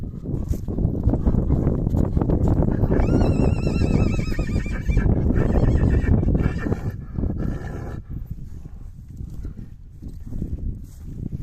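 Percheron stallion neighing and whinnying loudly at close range, with steady hoof clip-clop and movement noise throughout, the calls rising in the middle and fading toward the end.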